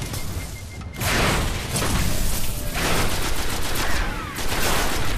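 Rapid bursts of gunfire from a Destiny Crucible multiplayer match crackle almost continuously, loud and dense with brief pauses between volleys.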